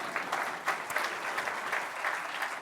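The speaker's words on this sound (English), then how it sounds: "Give yourselves a round of applause" Audience at an evening author lecture bursts into sustained applause, a dense patter of many hands clapping steadily throughout.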